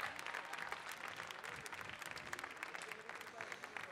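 A small, quiet room of people claps for the sixth-place finisher at a coffee championship awards ceremony. The clapping is fairly faint and uneven, with individual claps standing out.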